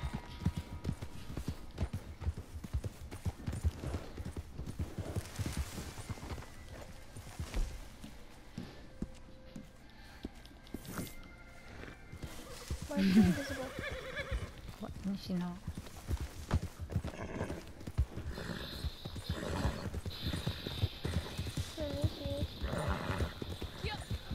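Video game horse hooves from Red Dead Redemption 2 clip-clop in a steady rhythm with a short horse whinny midway, while people talk over it.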